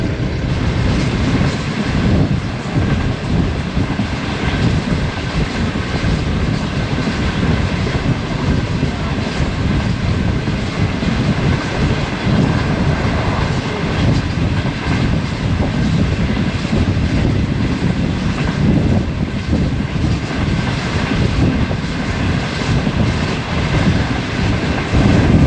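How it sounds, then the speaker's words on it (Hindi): The Shalimar Express passenger train runs steadily on the rails between Okara and Sahiwal, a loud, continuous rumble and rattle of wheels and carriages with no pause across the whole stretch. "दोस्तों ट्रेन हमारी उकाड़ा से चलने के बाद आहिस्ता आहिस्ता साहिवाल शहर की जानिब दौड़ रही है"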